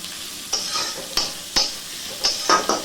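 Potatoes and onions frying in hot oil in a pan, a soft sizzle broken by several sharp spatula scrapes and stirs at irregular intervals, close up with no voices.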